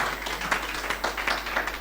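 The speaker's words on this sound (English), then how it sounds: "Do you want to clap for him?" Audience applause for a speaker at a youth-day panel discussion, a steady patter of many hands clapping, fairly close and continuous for under two seconds.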